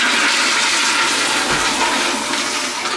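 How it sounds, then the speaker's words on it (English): An automatic toilet in a public bathroom flushes with a loud, steady rush of water that fills the whole three seconds, close by and without any talk. "That's a good flush."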